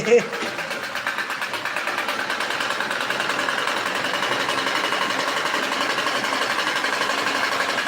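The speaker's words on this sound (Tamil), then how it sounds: "தையல் மிஷின் பாருங்க" A sewing machine stitching in a home setting, its needle hammering in a fast, even mechanical rhythm that starts with a brief thump and continues loud and close throughout, with no voices over it.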